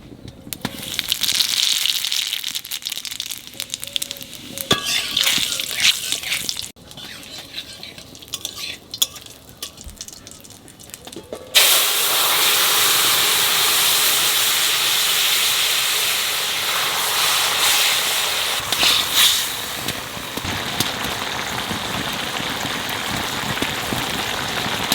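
Small chela fish go into hot oil in a home kitchen, bringing a sudden loud, sustained sizzle and hiss. Before that come several seconds of quieter stirring, clinks and scraping.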